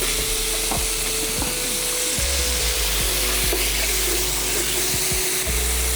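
Diced white onion sizzles and crackles in a hot pan with two strips of bacon, a steady loud fry broken by scraping and stirring knocks throughout, with no talking.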